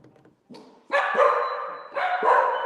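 A dog barks loudly and close, two sustained, strained barks with a short whimpering build-up after faint knocking on a table at the start.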